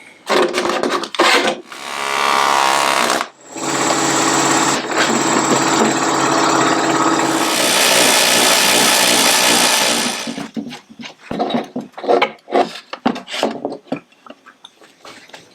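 Loud, rapid air hammer shaping sheet metal floor repair panels for a 1969 Triumph GT6 Mk2, in long continuous bursts broken by short pauses and ending in choppy, irregular strikes.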